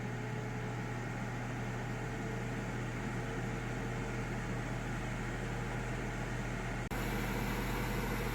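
A Ninja Foodi air fryer runs while frying whole tilapia, giving a constant low, faint fan-and-heater hum with a brief click near the end, then continuing slightly louder.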